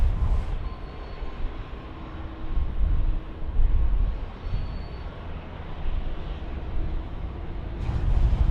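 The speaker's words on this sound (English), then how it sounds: "we're going to get China Eastern coming in here to land on runway 16 right" A China Eastern airliner approaches to land on runway 16 right at Sydney Airport, heard as a broad, steady engine roar that swells and eases over several seconds at a moderate distance, with no talking.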